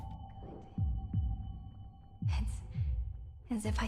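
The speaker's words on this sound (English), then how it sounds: "As if I can hear the sound of my heart beating." In Honkai: Star Rail, a heartbeat effect sounds as a series of deep, muffled thumps in paired beats beneath a soft hum, with bursts of game effects and voice between them.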